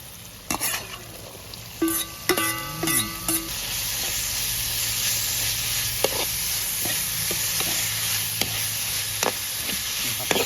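Red chili and ripe tomatoes stir-fried in a pan, hissing in a steady sizzle throughout, with a few scraping stir strokes and light clinks of the utensil near the start.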